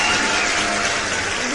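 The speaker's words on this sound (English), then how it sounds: "Maybe we can give a round of applause while we go for our break." An audience at a summit session gives a round of applause before a break, a dense, loud wash of clapping sustained throughout.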